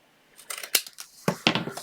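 Scissors snip through paper while trimming a Stampin' Up tea bag envelope card, a few quick, close, crisp cuts in two short bursts with no talking.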